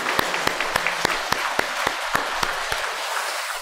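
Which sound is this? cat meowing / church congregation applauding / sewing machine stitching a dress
church congregation applauding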